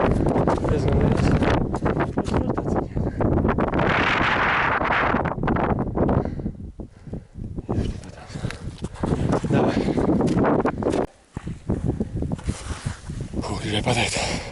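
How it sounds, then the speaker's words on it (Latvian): Strong gusting wind roars across the microphone on the rocky summit of Carrauntoohill, Ireland's highest peak, loud and buffeting with brief lulls, while someone talks now and then beneath it. "Vējš. Diezgan liels."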